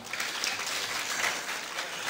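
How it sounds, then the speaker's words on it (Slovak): Steady, dense applause from an audience at a Roma pilgrimage event program in Gaboltov, a continuous wash of many hands clapping that fills the whole moment without pause. "Maroš, zatleskajme im."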